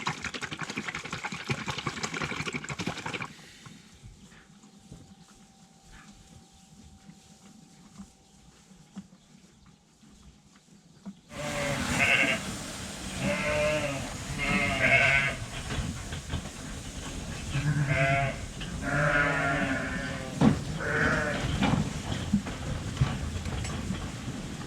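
Penned ewes on a farm in winter bleat and call loudly. The noise comes after a quieter stretch, with several overlapping cries close by.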